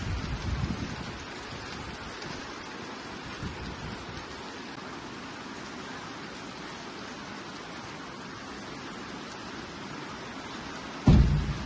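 Steady rain hisses evenly throughout, a dense wash of patter, ending with a brief loud thump.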